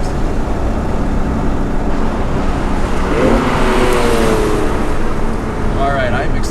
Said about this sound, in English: Really make the engine sing.